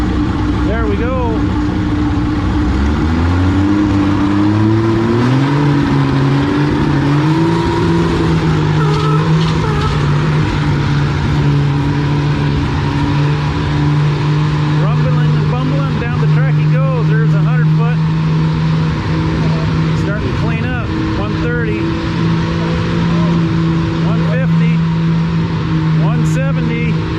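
A drag race car at the NW Fall Nationals roars off the line and rises through its gears into a long, sustained engine howl, loud and close, with an announcer talking over it throughout.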